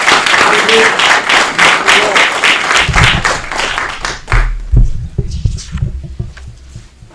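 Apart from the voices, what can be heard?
applause for the code enforcement agency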